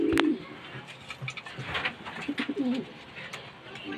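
A racing pigeon lands at its loft during a training toss, with soft wing flutters and cooing against faint background, while someone talks nearby.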